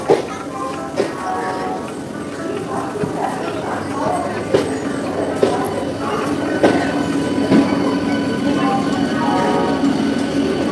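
A Howrah–Kharagpur local train rolls into a busy station platform with a steady, loud rumble and faint squeals and clatter, while a crowd chatters and voices talk throughout.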